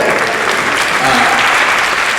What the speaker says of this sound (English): That applause is for me